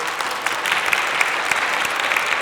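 Steady, dense applause from a church lecture audience, many hands clapping together at a loud, even level throughout.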